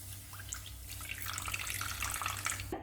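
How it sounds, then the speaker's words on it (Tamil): About a quarter tumbler of water is poured into a clay cooking pot while drumstick greens are prepared. A quiet, continuous trickling splash runs throughout, with no voices. "ஒரு 1/4 டம்ளர் அளவு தண்ணி."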